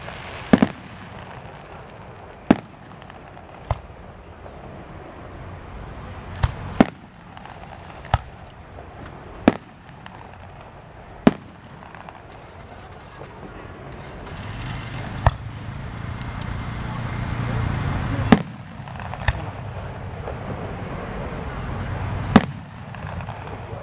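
Fireworks burst at the Lancaster Hot Air Balloon Festival, a series of sharp distant bangs and pops spaced a few seconds apart over a low crowd rumble that swells toward the end, with louder thumps closing the show.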